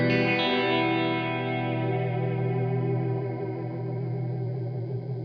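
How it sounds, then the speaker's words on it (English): Reverb with pitch modulation from an Artifakt Lo-Fi Elements pedal in µVerb mode: a sustained, wavering chorus-like wash of tones with a steady level and shimmering harmonics, heard alone without talk. "That's a pitch modulation on the reverb."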